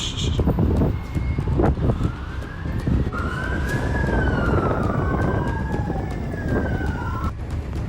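A police car siren rises and falls in sweeping wails that grow louder as it approaches, over rumbling traffic and skateboard clatter outdoors, with some brief scattered knocks at the start.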